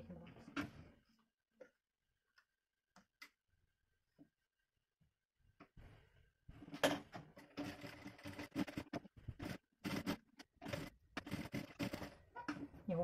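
A sewing machine stitches one side of a fabric toy camel, first in a few sparse clicks, then in a dense rattling run. Someone speaks softly now and then.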